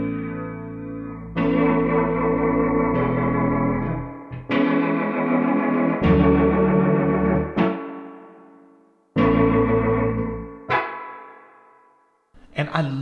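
A Prophet X synth playing a CP 70 electric piano sample with spring reverb sounds rich chords and single notes, each struck sharply and then decaying into a metallic, splashy reverb tail, loud and close with pauses between phrases.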